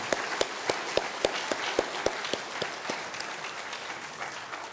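Steady applause from a church congregation at a Sunday service, many hands clapping together with a few sharper claps standing out, moderately loud and continuous for several seconds.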